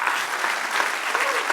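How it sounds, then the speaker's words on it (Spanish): A church congregation clapping steadily, bright and continuous, with a few voices faintly mixed in. "Dale un aplauso al que reina."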